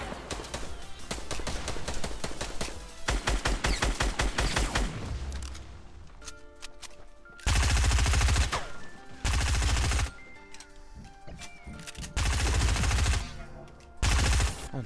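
Fortnite Battle Royale gunfire: rapid automatic bursts at first, then loud blocks of heavy repeated fire separated by quieter gaps, close and intense, with no one talking.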